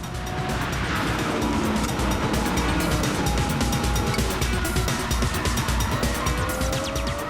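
Lamborghini Murciélago V12 cornering hard on a race track, a loud sustained engine roar with tire squeal running under it, close and continuous throughout.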